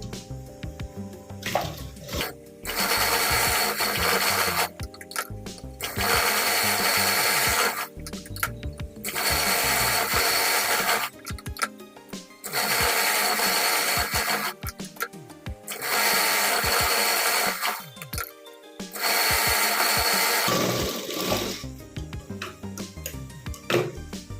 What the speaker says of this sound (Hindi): सीधी सीधी सिलाई लगा लेते हैं